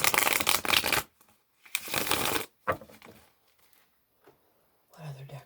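Tarot cards riffle and shuffle in two loud, close bursts with quieter card handling and taps between, and a voice briefly speaks near the end.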